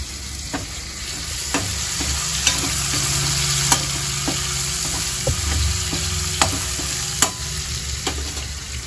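Onions and tomato fry in a pan with a steady, close sizzle, broken by repeated sharp clicks of stirring at irregular intervals, with no voices.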